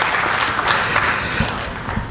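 Enthusiastic audience clapping at a kavi sammelan poetry gathering in a society hall, a loud, continuous burst of applause for a poet, with some crowd noise beneath.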